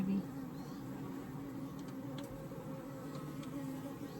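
Honey bees hum steadily around an open 20-frame Layens horizontal hive during a summer inspection, a soft continuous drone with a few louder buzzes from individual bees passing nearby.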